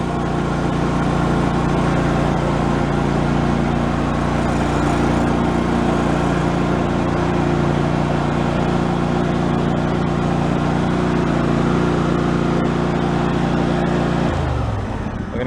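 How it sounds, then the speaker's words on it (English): A John Deere lawn tractor's small engine idles steadily after a cold start with the choke on, a loud, close, even drone that holds for about fourteen seconds before the pitch drops abruptly near the end. "let's go do a cold start on it"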